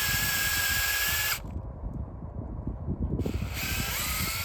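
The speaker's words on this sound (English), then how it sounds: "we're going to drill to our mark" A power drill bores a hole into soil for a CropX V4 soil sensor install, running at a loud steady whine, dropping briefly to a lower grinding churn as the bit works the ground, then resuming.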